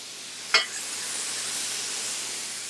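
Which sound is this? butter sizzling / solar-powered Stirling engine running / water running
butter sizzling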